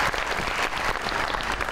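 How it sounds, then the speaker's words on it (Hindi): A short, lively burst of studio audience clapping on an Eid special television show, steady and fairly close throughout. "बहुत सारी तालियां।"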